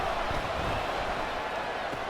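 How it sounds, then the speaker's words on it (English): A large crowd roars steadily at an NFL football game between the Chiefs and Seahawks at a stadium, a dense continuous wash of cheering and noise that stays even and distant throughout. "Listen to this crowd now."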